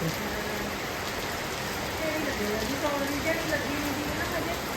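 Heavy monsoon rain pours down steadily in a dense, even hiss, with faint voices talking softly beneath the downpour.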